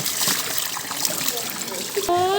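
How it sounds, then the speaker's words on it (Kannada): Water splashes and trickles as it is poured over people's feet at the entrance of a Karnataka temple, faint and close, followed by a short rising whistle-like tone near the end. "ಕಾಲಿಗೆ ನೀರು ಹಾಕತ್ತಿದ್ದಾರೆ."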